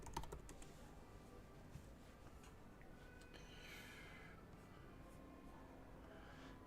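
Close computer keyboard typing in a brief burst of crisp clicks at the start, then a steady low room hum with a faint breath or sniff, no talking.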